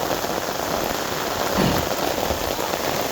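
Heavy, steady rain pours down over open farm fields, a dense continuous hiss at constant loudness with no voices.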